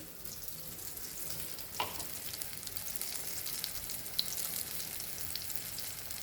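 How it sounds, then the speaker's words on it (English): Hara bhara kebabs frying in a pan, a faint, steady sizzle and hiss with a couple of brief clinks, low and continuous, with no voices. "Fry this for around 5 to few minutes actually."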